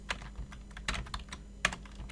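Keystrokes on a computer keyboard while entering a command on an Ubuntu server, a quiet, close, irregular patter of separate taps with one sharper press near the end.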